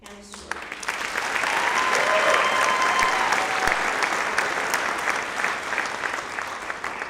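An audience at an education center graduation applauds a graduate, a dense, sustained round of clapping that swells in the first seconds and stays steady, with faint voices and a brief tone underneath.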